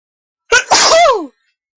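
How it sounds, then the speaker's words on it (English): One sharp sneeze bursts out close to the mic, with a quick intake followed by a loud, drawn-out release that trails off, alone in an otherwise quiet room. "It'll just make me sneeze again,"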